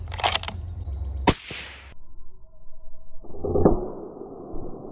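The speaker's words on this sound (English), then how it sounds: "But 338 armor piercing bullets," A .338 Lapua rifle fires an armor-piercing round at 1-inch steel: one sharp, loud crack with a short ringing tail, then a second impact-like burst and a lingering metallic hum outdoors.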